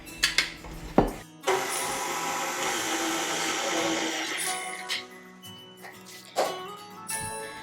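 Rollkuchen dough ingredients being mixed, a few knocks against a bowl and then a long whirring stretch of an electric mixer, close by, followed by scattered clatter.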